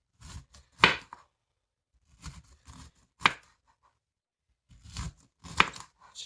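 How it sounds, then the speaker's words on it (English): Knife chopping through a head of cauliflower on a board for a loaded cauliflower dish, in three bursts of quick, close, loud chops separated by short pauses. "I chop mine like this. You chop it how you want. So we're just going to chop away."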